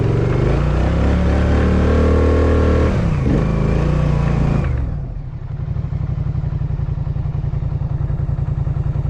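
A Polaris Sportsman 850 ATV on 30-inch mud tires revs hard in snow, a loud close engine roar that rises then drops into a steady, throbbing idle.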